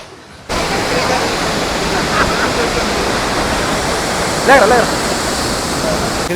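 A loud, steady roar of a waterfall in Kerala close by, constant throughout after a sudden start, with brief voices faintly breaking through.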